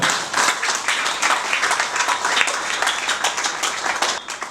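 A congregation at a Gabonese wedding blessing applauds to acclaim the Lord, dense steady clapping from many hands filling the room with no break.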